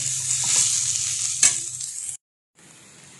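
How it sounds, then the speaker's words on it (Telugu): Gongura leaves frying in a tall kadai with little oil, a steady close sizzle with a sharp stirring scrape partway through, then a short break before the sizzle resumes quieter. "కలుపుతూ వేపుకుంటే మొత్తం అంతా కూడా చక్కగా ఫ్రై అవుతుందండి"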